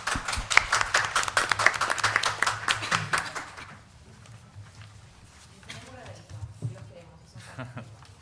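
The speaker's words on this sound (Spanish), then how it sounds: "Un aplauso para ti." An audience applauds at the close of a creative panel session at an academic conference, with dense, fairly loud clapping for about three and a half seconds that then fades out as talking and murmuring take over.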